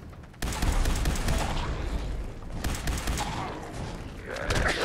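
Rapid bursts of gunfire from the video game Fallout 4, a loud dense volley that starts abruptly and keeps going throughout, thinning slightly in the middle before building again.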